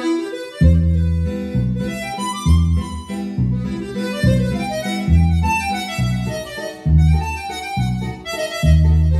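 Digital accordion on a swing register plays a bouncy, syncopated tune: punchy bass-and-chord stabs in a regular swung rhythm beneath a reedy melody, loud and close with no voices.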